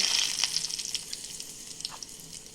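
Mustard seeds and dried red chillies crackle and sizzle in hot oil, with sharp scattered pops over a fading hiss, close and moderately loud, no voices.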